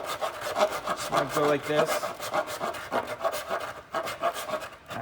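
Sandpaper rubs back and forth over a 3D-printed Power Rangers Samurai Red helmet, held over a trash can, giving quick, close rasping strokes in a steady rhythm while a person speaks briefly.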